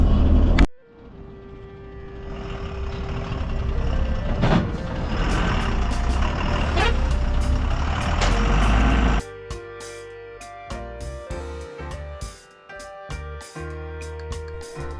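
Heavy trucks labour around bends on the Leh–Manali mountain highway, a loud continuous engine rumble close by that later gives way to sharper intermittent clatter and tonal bursts.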